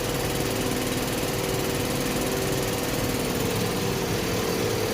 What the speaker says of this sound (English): Turn on sea water cooling pump and fresh water cooling pump.